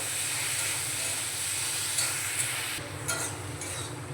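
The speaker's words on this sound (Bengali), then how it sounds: "গ্যাসের ফ্লেমটা লো টু মিডিয়ামে রেখে 2 থেকে 3 মিনিট নাড়াচাড়া করে নেওয়ার ফলে দেখুন টমেটোগুলো খুব সুন্দরভাবে গলে গিয়েছে" Salted tomatoes are stirred in a pan over a low-to-medium gas flame, giving a steady close sizzle and hiss with a few soft scraping touches.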